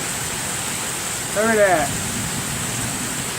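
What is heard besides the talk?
heavy rain during a thunderstorm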